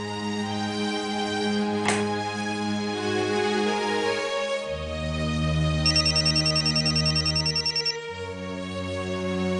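A phone ringing on an outgoing call plays a repeating electronic melodic ringtone with sustained tonal notes that shift pitch, joined midway by a rapid pulsing trill, steady and clear with no voices.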